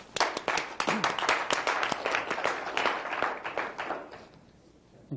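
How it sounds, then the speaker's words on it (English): A round of applause at a Sheboygan city council meeting: a small group claps briskly for about four seconds, fairly close, then the clapping thins out and fades to quiet. "I think it deserves a round of applause to you."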